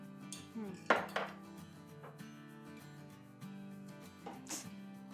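Flour is stirred into boiling water in a pot while making saffron pistachio churros, giving soft scraping and clinking of a utensil against the pot over a steady background tone, with a couple of louder knocks.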